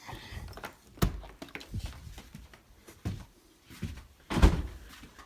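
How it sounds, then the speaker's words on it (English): A wooden outhouse door is opened and then locked by turning a wooden latch, giving a few sharp knocks and clunks with quieter shuffling and handling noise between them. "here's the door leading out to the outhouse, and you can turn that piece of wood and lock it"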